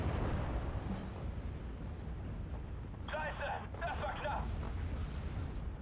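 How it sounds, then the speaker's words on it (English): Artillery barrages in the WWII strategy game Steel Division 2, a dense stream of distant booms and rumbling impacts under continuous battle noise, with someone talking over it. "More artillery on our buddy on the right."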